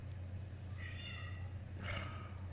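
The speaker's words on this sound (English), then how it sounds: "Cat's going nuts" A restless cat lets out two short meows, faint and somewhat distant over a steady low hum, with no one talking.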